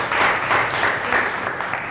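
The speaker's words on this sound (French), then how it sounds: "Alors, on va encore applaudir pour elle." Audience applause at a training session for young leaders, a steady dense wash of clapping that holds for about two seconds with no voices over it.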